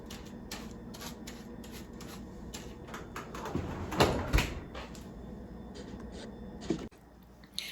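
A spoon stirs lemongrass and grapefruit bath salts in a container, scraping and rattling in quick repeated gritty strokes, with a louder clatter midway and a knock near the end.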